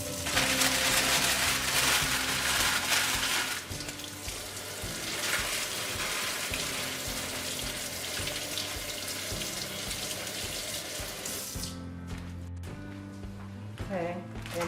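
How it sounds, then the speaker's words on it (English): Parchment paper crumpled under running warm tap water at a kitchen sink, a steady splashing stream with crinkly rustling on top, tapering off near the end as voices talk. "I like to crumble it under warm or hot water to make it more pliable"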